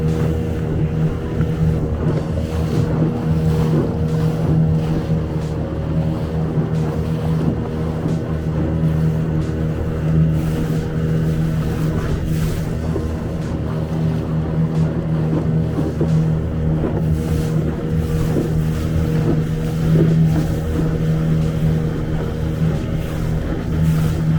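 A small boat motors across the sea off Denmark while out for crabs and fish, its engine a steady, loud low drone with wind and water noise throughout, no talk.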